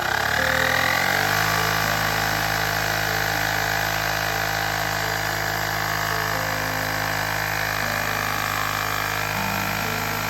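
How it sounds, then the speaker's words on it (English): A handheld Auxito A301 smart electric pump inflates a soccer ball through a needle attachment, running as a steady, loud motor whir throughout after a brief start-up. "I'm going to use the given needle air attachment to pump this soccer ball"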